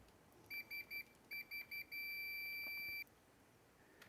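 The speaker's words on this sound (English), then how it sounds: "it has a really good buzzer as well." A Fluke 289 multimeter's continuity buzzer chirps in two quick sets of three short tones, then holds one long steady beep, high-pitched and clear over faint background hiss.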